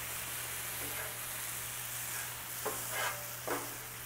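Water and brown sugar sizzle on a Blackstone griddle while sweet potato candied yams cook, a steady soft hiss with a few brief bursts of bubbling and stirring, no voices.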